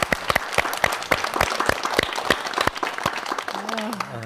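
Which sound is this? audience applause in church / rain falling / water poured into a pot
audience applause in church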